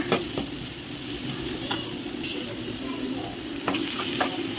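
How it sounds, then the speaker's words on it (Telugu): Chopped onions, cut in fairly large pieces, sizzle steadily in hot oil in a pan as they fry toward browning, with a few light clinks of a stirring spoon against the pan. "ఇలా అయితే వేయించుకోవాలి మంచిగా కలర్ చేంజ్ అయ్యేంత వరకు"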